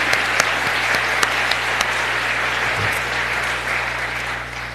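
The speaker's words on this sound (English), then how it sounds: "I'd like to start off by giving another round of applause for our charter class." Applause from the audience for the charter class at a medical school pinning ceremony in a hall, a steady continuous clapping texture with a few sharper individual claps standing out and a low hum underneath.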